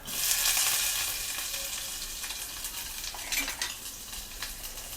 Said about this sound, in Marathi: नेक्स्ट मी इथे लसूण टाकत आहे. त्याच्यानंतर कांदा,